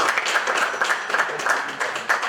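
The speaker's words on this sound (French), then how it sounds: "Mesdames et messieurs, on va applaudir" An audience claps for a comedian at a live stage show, a brief, dense burst of steady applause heard up close with no voices over it.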